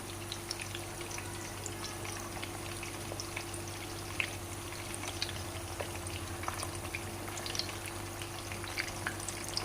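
Kofta frying on low heat for kofta biryani, a steady soft sizzle with faint scattered pops running evenly throughout, no voices.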